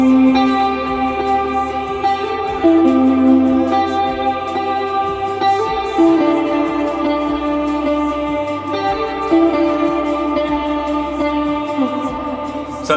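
An electric guitar interlude played at full speed with reverb and chorus rings out as a steady run of shimmering, overlapping picked notes, sounding alone with no talking.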